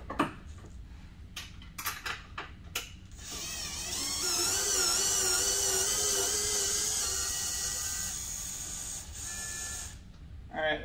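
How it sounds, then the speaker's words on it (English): On a 2017+ Maverick X3 side-by-side bed, a T27 and a 10mm bolt come out: a few sharp clicks first, then a long whirring power-tool drive rising and fading, close up, with more clicks at the end. "So we're going to remove that bolt."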